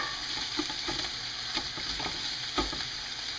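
Sausages sear in a pan in their own rendered fat, giving a steady close sizzle with soft scrapes and pops at irregular moments.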